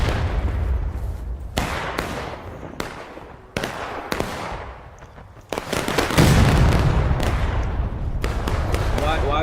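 Repeated gunshots from weapons fired in the video game Fallout: New Vegas, sharp loud bangs at irregular intervals with ringing tails, a heavier barrage toward the end, with people talking throughout.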